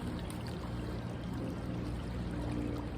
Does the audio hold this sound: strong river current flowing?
yes